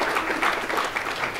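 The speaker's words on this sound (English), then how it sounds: "If you can give them a round of applause, real quick" A conference crowd in a Hudson Yards venue gives a short round of steady, moderately loud clapping, a dense patter of many hands without pause.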